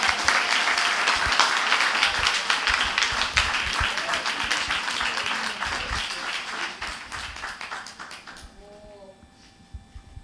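Audience applause at a fisheries conference forum and award ceremony, a dense steady clapping crowd that slowly thins and fades out near the end.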